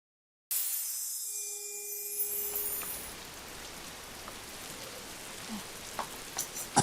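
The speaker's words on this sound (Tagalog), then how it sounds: "Maaraw, pero umuulan." Rain pattering steadily on a surface during sunshine, with a brief tonal hum at the start and scattered louder drops toward the end.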